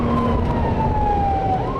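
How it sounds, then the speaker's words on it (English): A warning siren blares during a rocket attack in Israel, a loud sustained wailing tone that slowly falls in pitch, then turns upward over a dense rumble of background noise. "warning sirens soon blare"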